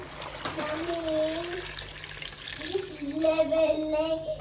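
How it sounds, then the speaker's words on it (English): Water pours steadily into a cooking pot, a soft trickling rush under nearby voices talking. "Add some water."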